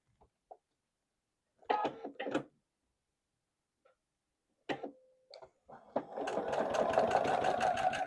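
A sewing machine runs a quarter-inch seam on a quilt block, first in short stitching bursts and then in a steady, close, moderately loud run for the final two seconds. Faint handling clicks fill the quiet gaps.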